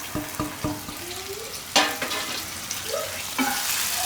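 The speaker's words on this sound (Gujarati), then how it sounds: "હવે આમાં આપણે નાખી દઉં આ મેથી બાફેલી." Boiled fenugreek seeds go into a sizzling Gujarati sweet mango curry, followed by a spoon clinking and scraping the pan in several quick strokes while the mixture bubbles and frizzles steadily underneath.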